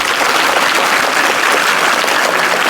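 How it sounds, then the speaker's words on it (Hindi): Children clapping together at a school celebration, a dense, steady burst of applause that stays loud and even from start to finish with no voices over it. "आज ये सब सेलिब्रेट कर रहे हैं, तालियां बजा रहे हैं, तालियां बजाएं"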